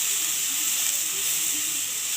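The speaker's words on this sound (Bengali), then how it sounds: "ওই তেলের মধ্যেই আমি দিয়ে দিচ্ছি পেঁয়াজ" Onion paste dropped into hot fish oil left from frying fish, giving a steady, loud hiss and sizzle that holds evenly throughout with no voices.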